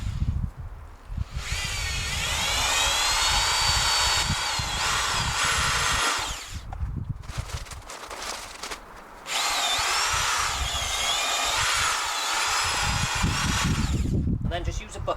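Corded power drill with a paddle mixer whirs steadily while mixing plaster powder and water in a bucket, running in two long bursts separated by a short pause, loud and close.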